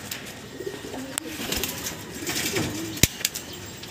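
A homing pigeon that returned after eight months coos in low, soft, rolling phrases nearby, with a few sharp wing claps and flutters breaking in over faint background noise.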